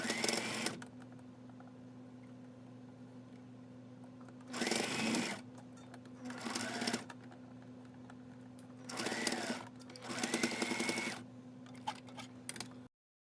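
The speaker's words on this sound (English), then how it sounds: "go ahead and stitch to fasten the elastic down" Sewing machine stitching elastic onto a sleep bonnet runs in several short bursts separated by quiet gaps, a close, steady mechanical whirring with no talking.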